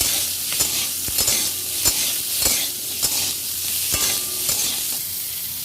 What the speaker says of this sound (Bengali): কাঁচা লঙ্কা চেরাগুলো দিয়ে দিচ্ছি আলু দিয়ে দিচ্ছি এক এক করে কেটে রাখা সব সবজিই দিয়ে দেবো দিয়ে ভালো করে ভেজে নিয়ে